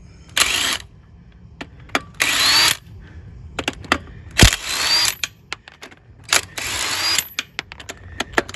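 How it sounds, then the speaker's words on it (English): A battery impact wrench removing lug nuts from an Escalade wheel, four sharp rattling bursts with quiet gaps and small clicks in between, close up. "now you can use your battery impact."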